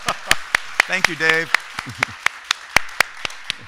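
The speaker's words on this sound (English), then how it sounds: "Clap for Dave before you." Scattered, evenly spaced claps ring out close by at a film-restoration talk as an audience sends off Dave, while someone speaks between the claps.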